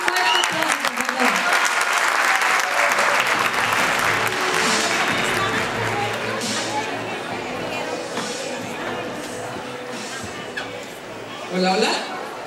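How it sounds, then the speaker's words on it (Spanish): A seminar audience in Guadalajara gives loud, sustained applause for a speaker. Dense clapping fills the first half, then thins and fades under crowd chatter and a few clinks, with a short burst near the end. "Demos un fuerte aplauso, por favor."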